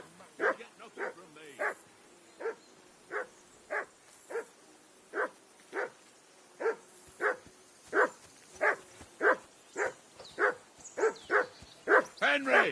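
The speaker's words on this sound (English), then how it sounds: "That barking was a pain in the ass." A dog in the video game Kingdom Come Deliverance 2 barks steadily, single sharp barks spaced about half a second to a second apart for over twelve seconds, moderately close with faint background ambience.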